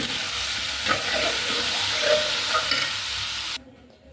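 Boiled carrot and potato are stirred into a simmering masala curry in a pan, a steady sizzle and bubbling with a few soft scraping stirs, cutting off abruptly near the end.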